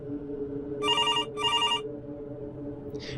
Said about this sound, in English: the kitchen phone began to ring